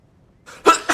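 A single close, sharp sneeze: a short breathy intake followed by an abrupt burst and a brief tail.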